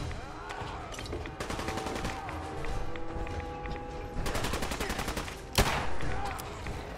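Bursts of rapid automatic gunfire in Fallout 4's Nuka World, with clustered volleys and a sharp louder shot near the end over busy combat ambience.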